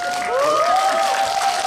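Audience applause at a film screening Q&A, a steady wash of clapping and crowd noise sustained throughout, with a sustained tone running beneath it.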